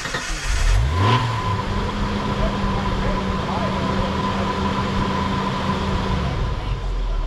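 Jeep JK engine revving steadily during an off-road flop-over recovery on a rocky trail, a sustained mid-pitched drone held for several seconds after a brief louder surge at the start.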